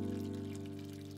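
Drinking water being poured at home, a steady, fairly quiet stream with a faint rising tone that runs throughout without any talk.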